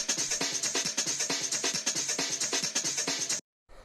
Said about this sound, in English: after that we have this break beat, which sounds like this.